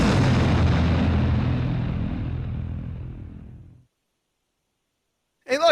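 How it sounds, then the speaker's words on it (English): Explosion of the black griffin in a fantasy musical audio drama, a single loud blast with a long rumbling decay fading to silence over several seconds, then a voice begins. "the black griffin exploded"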